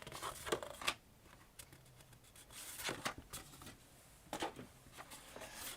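Scissors cut through card stock for a handmade card, giving soft, close snips and slicing swishes in an uneven rhythm, each fairly quiet.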